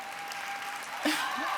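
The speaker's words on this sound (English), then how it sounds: "Ladies and gentlemen, some round of applause to Dr. Wilson Young as she gets onto stage" Audience applause at an expo opening session as a speaker walks on stage, a steady moderate clapping wash with a brief voice cutting through partway.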